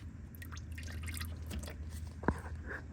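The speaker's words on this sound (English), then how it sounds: "Make sure to catch it because it will drip a lot of oil" Engine oil drains from a 2022–2024 Honda Civic into a catch pan, soft irregular drips and trickles over a low steady hum, with one sharper plop standing out near the end.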